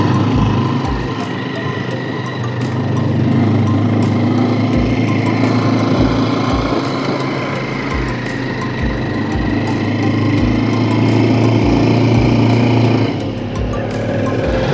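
A motorbike with a failing, heavily smoking engine runs steadily at a fast, rattling idle, loud and close, with regular ticking pulses throughout and a brief dip near the end.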